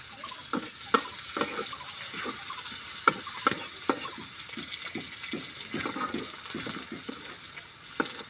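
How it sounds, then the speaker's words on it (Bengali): Spice paste and crushed whole garlic frying in oil in a wok, continuous sizzling broken by frequent rhythmic stirring scrapes close by. "পেস্টটা ভাজা লিয়ার মধ্যে দিয়ে দিচ্ছি গোটা"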